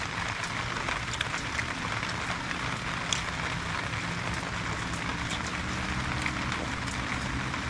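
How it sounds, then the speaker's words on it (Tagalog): Light rain falls steadily at a treehouse villa in Sapang Bato, Angeles City. It makes an even, continuous patter with a few louder drops standing out, and no voices are heard. "Kaya hindi lumakas yung ulan."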